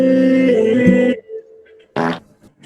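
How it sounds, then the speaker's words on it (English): A voice mod produces a fart noise, a loud buzzing tonal blast for about a second, followed after a short pause by a second brief burst. "Fart noise."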